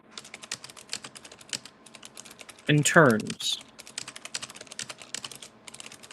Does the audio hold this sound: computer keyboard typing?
yes